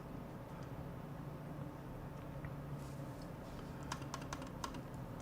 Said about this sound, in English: if y'all can track my keystrokes